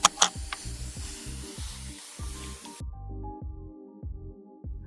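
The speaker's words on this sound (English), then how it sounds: "first I'm spraying them down with a little bit of water" Two quick spritzes of water from a spray bottle onto a wooden dresser top, followed by a soft hiss that fades out, over faint rhythmic thumping in the background.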